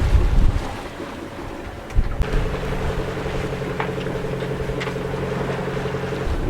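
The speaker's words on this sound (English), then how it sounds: "The wind in my face, it slowed me right down, and the boat's bouncing, and the swell, it's probably about 4 meters" Wind and a heavy swell of about four metres buffet a small sailing boat at sea, a steady rushing roar with a low engine-like drone and occasional thumps from the bouncing hull.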